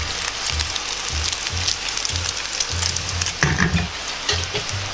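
Pork belly sizzles in a frying pan with garlic-infused oil, a close, steady crackle and hiss with occasional stirring scrapes and low clunks of the pan, with no talk.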